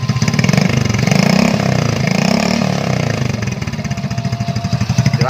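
A motorcycle engine under repair for white exhaust smoke revs loudly and steadily up close, rising and falling in a throaty drone with a rough pulsing idle toward the end.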